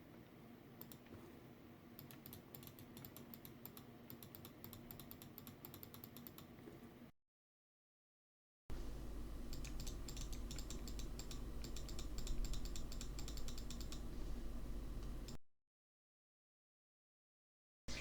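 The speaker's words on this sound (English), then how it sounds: "We're going to be clicking on the mouse a few times." Computer mouse clicks picked up by a sensitive Trust Mico GXT 212 USB microphone, sharp repeated ticks over steady room hum in two bursts separated by silence.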